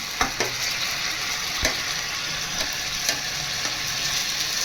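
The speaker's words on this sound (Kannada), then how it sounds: "ಮೂರು ನಿಮಿಷ ಫ್ರೈ ಮಾಡ್ಕೊಬೇಕು ಚೆನ್ನಾಗಿ ನಂತರ ಒಂದು ಈರುಳ್ಳಿ ಹಾಕ್ಕೊತ ಇದ್ದೀನಿ ನಂತರ ಒಂದು ಗೆಡ್ಡೆ ಬೆಳ್ಳುಳ್ಳಿ ಹಾಕ್ಕೊತ ಇದ್ದೀನಿ" Onion and garlic frying in a pan for idli sambar, a steady bright sizzle throughout with a few sharp clicks of a spoon or spatula against the pan, close and alone.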